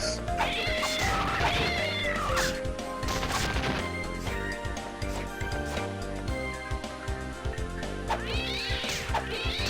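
Cat meows and caterwauls from the video game Castlevania: Dawn of Sorrow ring out repeatedly over busy game music and combat sound effects, loud and up front.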